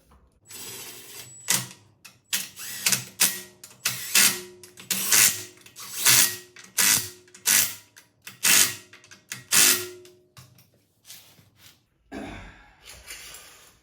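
A ratchet wrench with a 7/8 socket tightening lug nuts on a 2022 Tesla Model Y Performance wheel, around a dozen rhythmic clicking bursts, close and distinct, then a brief pause and a softer rustle.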